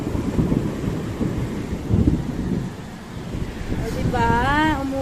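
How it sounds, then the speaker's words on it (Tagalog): Heavy rain pouring steadily in Qatar with low rumbling thunder rolling underneath, a constant dense wash of noise, and a voice briefly speaking near the end. "It's raining in Qatar."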